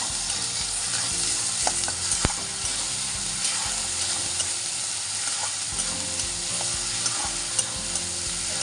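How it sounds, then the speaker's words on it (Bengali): Kashmiri red chili powder and turmeric are stirred in a frying pan, making a constant close sizzle with rhythmic scraping and clicking of the spoon against the pan, accompanied by a low steady hum and no talk. "এর মধ্যে দিয়ে দিচ্ছি হলুদ গুঁড়ো, ভালো করে মিক্স করে নেব।"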